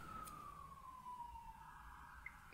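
Ambulance siren wailing in the distance, a faint single tone sliding slowly downward as the vehicle passes, over a low outdoor background rumble.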